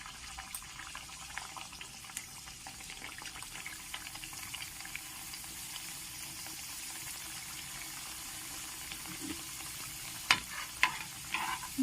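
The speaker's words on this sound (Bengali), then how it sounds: "তিনটে তিনটে করে দিলাম একদম লাল করে ভেজে নেব" Khaja dough pieces fry in hot oil three at a time, giving a steady close hiss of sizzling with scattered crackles and a few sharper pops near the end.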